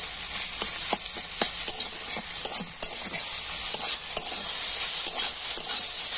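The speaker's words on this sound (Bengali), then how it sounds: "আর ডিমটাকে কিন্তু এবার ভেজে নেব" An egg fries in a hot pan with chowmein-style ingredients while a spatula stirs it, giving a bright continuous sizzle broken by repeated scraping strokes at an uneven rhythm, close and loud, with no speech.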